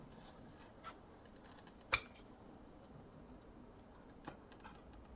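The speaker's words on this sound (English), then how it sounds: "Let's cut off some of that bulk there" Scissors snipping away excess fabric bulk near a stitched seam while sewing an iron caddy, a few faint, sharp snips spaced apart in a quiet room.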